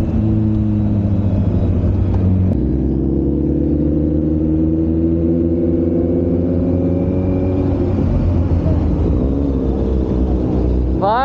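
A Kawasaki Z900 motorcycle engine idles and revs with a deep, throbbing exhaust note, pitch rising and settling as the throttle is blipped, loud and close.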